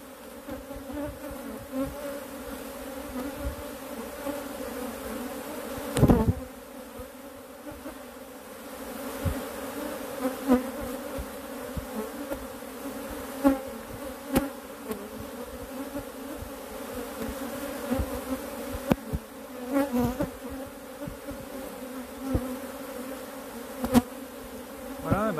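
An aggressive honeybee hive gives off a steady, fairly close buzz, a constant drone of many bees with a few louder passes of individual bees near the microphone.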